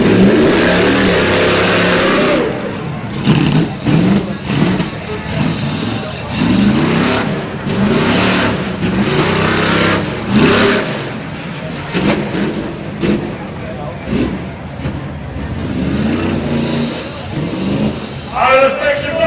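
A 1979 Chevy truck's engine roars and revs at a rough truck race, loud and continuous with rising and falling surges while an announcer talks over it and crowd noise fills the background.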